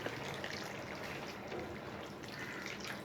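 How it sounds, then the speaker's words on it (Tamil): Thick coconut milk pours into an egg and drumstick curry in a soft, continuous liquid trickle and splash, close and quiet, with no talking. "தேங்காய் பால் கெட்டியாக எடுத்திருக்கேன், அதை ஊற்றிக்கிறேன்"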